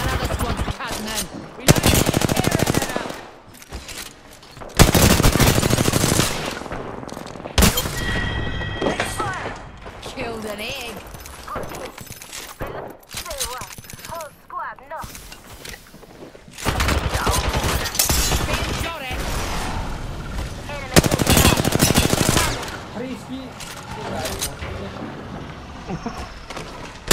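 Rapid automatic gunfire in the video game Apex Legends, loud bursts of fire separated by short gaps, with in-game voice lines and player chatter over the shooting.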